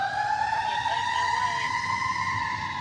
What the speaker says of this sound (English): There goes a fire engine